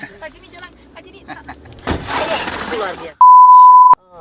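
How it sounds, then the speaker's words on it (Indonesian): Glass in the rear window of a car breaks under a thrown stone, a sudden loud crackling shatter of roughly a second amid street noise and voices, followed by a sharp steady beep. "kaca belakang mobil tim VOA pecah dilempar batu di salah satu lokasi pasar terbuka narkoba ini"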